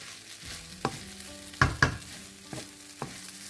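Kale being stir-fried into spicy shrimp fried rice with chili sauce, steady sizzling under scattered clanks and scrapes of a spatula against the pan, close up with no talking.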